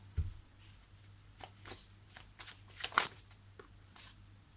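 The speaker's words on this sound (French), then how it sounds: "Je vais sortir quelques cartes." Playing cards being shuffled for a tarot reading: several soft riffles and shuffles close by, quiet, with a sharper burst near the end and no talking.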